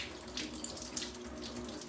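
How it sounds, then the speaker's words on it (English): Warm water runs steadily from a tap during tack cleaning, with a close, even splashing stream that holds at a constant level for the whole stretch. "I like to use warm water."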